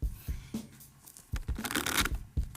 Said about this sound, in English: We're gonna start by having you give the cards a shuffle.